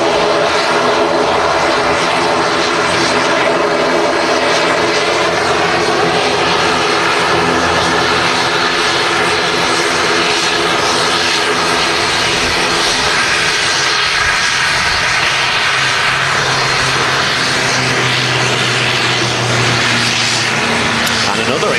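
A Loganair ATR 72 turboprop arriving from the Isle of Man at Manchester Airport gives a loud, steady engine and propeller roar that holds for the whole stretch, with a low drone building toward the end under occasional commentary.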